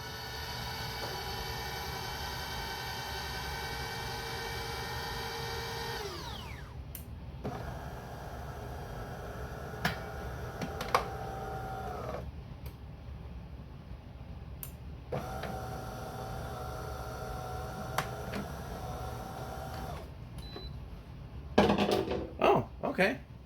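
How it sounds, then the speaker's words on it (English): A De'Longhi Dinamica Plus bean-to-cup machine brews full-strength double espresso shots, starting with a steady grinding whir that drops into intermittent pumping hums and clicks, ending in a burst of clatter. "for our first one, we are going to do strength full espresso double shots"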